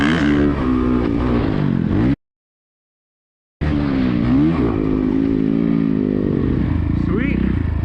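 Motocross dirt bikes race the final lap at Moriarty MX in New Mexico, a loud close engine drone rising and falling as the rider shifts, briefly cut by a gap of silence and then resuming at full roar.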